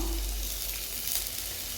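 Sliced onion sizzles in a hot pan while cooking ginger chicken, a steady, close frying hiss with faint crackles and no talking.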